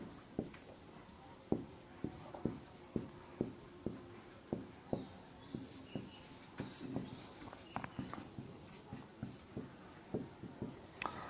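Chalk taps and scrapes on a board in a Hindi-medium electrochemistry class, a regular rhythm of sharp, close strokes repeating about twice per second, faint room tone between them and no talking.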